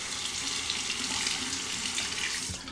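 Bathroom sink tap running steadily, water splashing as a Dovo Primo razor is rinsed and stubble flushed down the drain, close and continuous with no voices.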